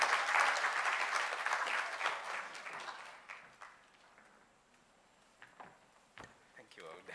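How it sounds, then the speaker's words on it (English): A conference audience at an annual research gathering applauds a speaker named George as he comes on stage: dense, fairly loud clapping that gradually thins and fades, followed by a voice speaking over a few scattered late claps. "A round of applause for George."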